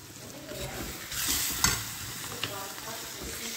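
Oil sizzles steadily in a pan as a tempering for chickpea lentil dal, with a louder hissing burst as ingredients hit the hot fat and soft stirring scrapes underneath.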